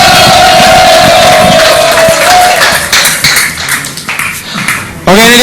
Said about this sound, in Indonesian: Beri tepuk tangan yang meriah untuk Adnan